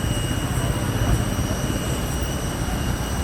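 Big jet engines roar at Chennai Meenambakkam airport, a loud, steady broadband rumble with a high whine on top, continuous throughout and fairly close.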